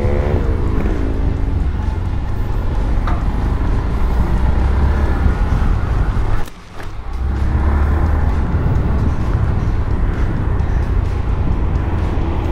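Honda MSX 125 Grom small motorcycle riding, its engine a loud steady drone held close throughout with a brief dip near the middle, no voices.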